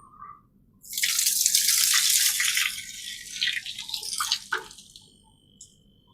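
Liquid is poured through a coconut milk strainer in a steady, splashy stream that runs for a few seconds, thins out and ends with a few drips.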